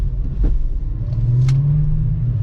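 A loud, close stock VR6 engine in a MK4 Volkswagen Jetta wagon rumbles and revs up, its pitch rising steadily as it accelerates.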